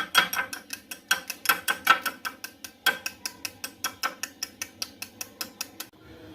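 An egg is whisked briskly in a bowl for rasmalai batter, giving a fast, steady series of sharp clinking strokes close by, slightly irregular at first and then even, with no talking.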